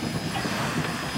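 A steam engine idles at a historic redwood sawmill in California, giving a steady low mechanical rumble with a soft continuous chug at even loudness throughout.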